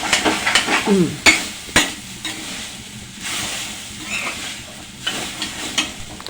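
Grated coconut with ginger, garlic, onion and black pepper roasting dry in a pan for a curry-leaf chutney powder, giving a close, steady rustle and scraping of stirring with a few sharp knocks of the spoon.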